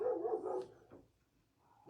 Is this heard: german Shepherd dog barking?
yes